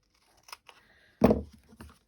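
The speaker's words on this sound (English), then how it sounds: "So I'm just going to snip it" Scissors snipping through a glued paper craft piece, a few quiet close clicks followed by one sharper, louder cut, alone without talk.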